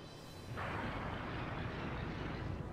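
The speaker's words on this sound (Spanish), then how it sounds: "Ese cañonazo de mierda activado." A cannon in The Legend of Zelda: Skyward Sword fires a single shot: one sudden blast, followed by a broad, sustained roar of rumbling noise that holds loud to the end.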